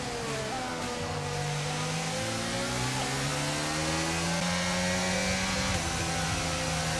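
Formula 1 car in the racing game F1 22 accelerating hard, its engine note climbing steadily in pitch through several gear changes, loud and continuous with a layered whining tone.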